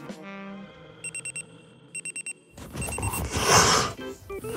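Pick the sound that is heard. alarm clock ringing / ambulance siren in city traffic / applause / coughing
alarm clock ringing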